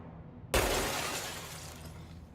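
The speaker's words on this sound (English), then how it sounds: "Glass breakings." Glass shattering in the video game Control: a single sudden crash of breaking glass, fairly close, followed by a tinkling, fading scatter of shards, with no voices.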